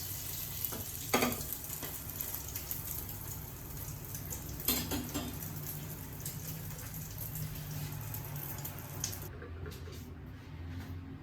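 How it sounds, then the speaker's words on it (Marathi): Egg masala toast frying in a pan, a steady close sizzle with soft stirring and squishing sounds that ends abruptly near the close. "मस्त फ्राय करून घ्यायचं"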